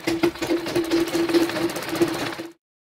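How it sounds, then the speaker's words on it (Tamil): Sewing machine running a fast, steady stitch along the waistband belt of a pant, a close, loud mechanical whir with rhythmic rattling that stops abruptly near the end. "இப்போ நம்ம பெல்ட்டை ஸ்டிச் பண்ண ஸ்டார்ட் பண்ணிடலாம்"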